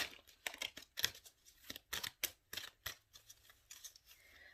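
Tarot cards are shuffled by hand in a series of crisp, close slaps and riffles, sharp, irregular and fairly quiet, with no talking.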